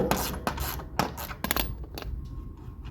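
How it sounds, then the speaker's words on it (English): A 17mm socket wrench removes lock nuts on lawn care equipment, producing a series of close metallic clicks, scrapes and rubbing knocks in irregular bursts, then fading to quieter handling sounds, with no speech. "So this is a 17mm socket. So we're just going to take these off."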